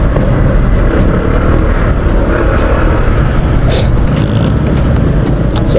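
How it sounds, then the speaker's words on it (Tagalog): Dense road traffic below the C5 bridge heading toward Eastwood, a loud steady rumble of engines and tires close by with no break in the wash of noise. "Yung pala ang traffic sa pagbaba pala ng C5."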